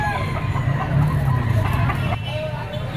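A stag, a young Boston-bloodline fighting rooster for sale at a poultry market in Padre Garcia, Batangas, crows and clucks close by in one continuous burst, with market bustle behind.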